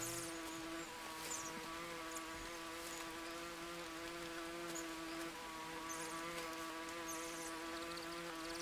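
Insects drone in a steady, unbroken buzz throughout, loud and close, set in the jungle of the survival game Green Hell.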